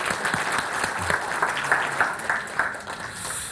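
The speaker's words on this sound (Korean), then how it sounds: "그냥 저희끼리 박수 한번 치고 시작하죠" Audience at a developer conference keynote claps together at the presenter's invitation, a dense, steady burst of applause from a full hall that fades slightly near the end.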